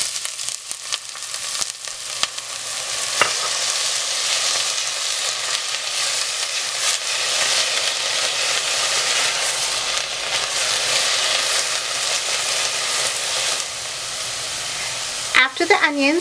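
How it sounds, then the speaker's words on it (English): Onion sautés in a little olive oil in a large pot over medium-high heat, a loud, continuous close sizzle lasting throughout, with light stirring clatter near the start and a brief utensil knock near the end. "In a large pot over a medium-high heat with a little bit of olive oil, you're going to add the onion and saute until translucent."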